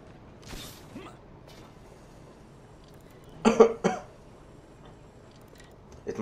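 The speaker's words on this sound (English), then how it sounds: "It must be annoying to hear me cough." One person coughs in a quiet room, a brief cough early on, then a louder cluster of two or three harsh coughs in the middle and another starting at the end.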